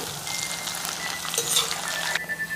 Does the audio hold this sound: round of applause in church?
no